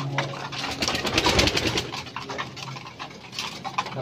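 Pigeons coo in a loft of gamefowl-keeping birds, a steady layered cooing and soft throaty calls close by, with faint rustling and background noise throughout.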